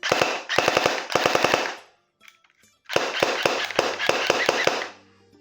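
Airsoft electric gun (AEP) with a large magazine test fired outdoors, sharp rapid full-auto bursts in three short strings, a pause, then a longer burst, loud and near.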